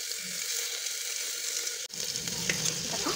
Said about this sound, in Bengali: এই যে সবজিগুলো একটু করে ভাজবো, হালকা ফ্রাই করবো